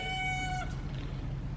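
A shop cat in a mill building gives one clear, close meow with a drawn-out tone that fades over a low steady background hum.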